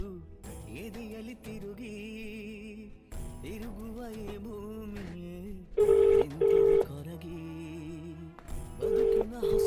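Telephone keypad tones sound as someone dials to call a son, with short beeps and longer steady tones over a backdrop of sustained music.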